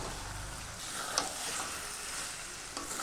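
Chicken pieces land in hot spiced oil that has already separated from the masala, giving a steady hissing sizzle with a couple of sharp clinks of utensils and no talk.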